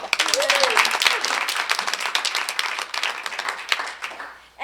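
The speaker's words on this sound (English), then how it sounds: "one more round of applause for Linda" Audience applauds Linda at a New Milford school board budget meeting, steady dense clapping across the whole stretch, close and fairly loud, with a brief voice at the start.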